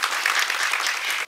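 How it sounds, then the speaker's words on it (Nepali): An audience at a public gathering breaks into brief, dense applause, loud and steady for just over a second before cutting off abruptly. "उहाँलाई पनि जोरदार ताली"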